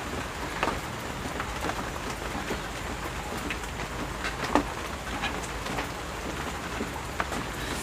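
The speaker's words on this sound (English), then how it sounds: "Supposed to start raining pretty heavy coming up here." Rain falls steadily as a dense, even hiss, with scattered louder drops tapping nearby on a surface, heard alone without voices.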